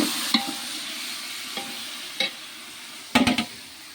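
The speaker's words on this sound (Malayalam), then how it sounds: "ഉള്ളി ശരിക്കും പൊരിഞ്ഞ് വന്ന് ഇനി വെളുത്തുള്ളി, ഇഞ്ചി, പച്ചമുളക് ഒന്നിച്ചിട്ട് കൊടുക്കാം" Onions frying in a pan with garlic, ginger and green chili added, heard as a low steady sizzle broken by a few scraping stirs, with a cluster of quick spoon knocks near the end.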